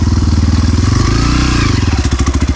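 A tuned 172FMM motorcycle engine with a ported head idles loudly with a steady, chugging pulse, a faint high whistle riding over it throughout.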